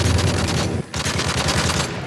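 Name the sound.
gunfire through a wall in Modern Warfare 3 video game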